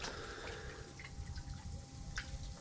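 A thin stream of water trickles into a koi pond, a faint, quiet patter of drips and small splashes over a low background rumble.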